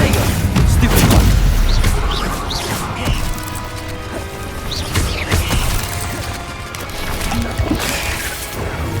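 Incendio fire spell cast during Hogwarts Legacy gameplay, a loud booming burst up front followed by crackling, crashing effects and continuous game noise.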